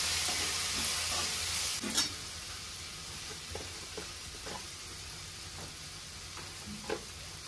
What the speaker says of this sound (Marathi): हे सगळं आता मिक्स करून घेते.